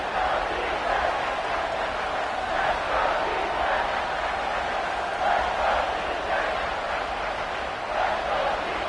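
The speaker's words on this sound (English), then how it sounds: "The crowd elevating its energy, willing this defense to get a stop on this big 3rd down" Large football stadium crowd at an NCAA game roars steadily before a big third down, a dense, sustained wash of cheering and noise with gentle surges and no clear pauses.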